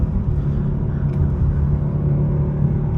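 A 2025 BMW 430i xDrive accelerating in second gear gives a steady, low engine rumble and drone heard from inside the cabin, holding fairly even with no talking over it.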